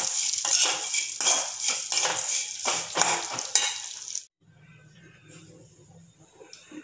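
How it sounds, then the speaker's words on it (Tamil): A cup of vermicelli is roasted in a pan for a milk and sago payasam, with a spoon busily scraping and clattering against the metal over a light sizzle for about four seconds before it falls quiet, without speech. "ஒரு கப் சேமியாவையும் போட்டு நல்லா வறுத்துணும்"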